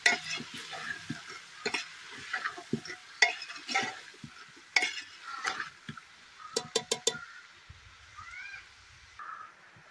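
A spoon stirs a Kashmiri-style kohlrabi dish in a pan, giving irregular scraping clinks and knocks over a quiet sizzle, some strokes sharp and close, with pauses between bursts.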